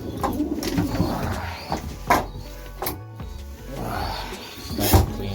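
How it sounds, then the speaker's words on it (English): Racing pigeons in a loft, repeated soft cooing calls scattered throughout, close by, mixed with occasional rustling and clatter of birds moving about, with no talking. "look after the pigeons, and the pigeons look after you"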